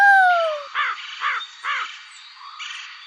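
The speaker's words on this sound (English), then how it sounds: "Crow." A crow caws three times in a steady rhythm, each call harsh and nasal, followed by a fainter fourth caw, heard close with no other sounds.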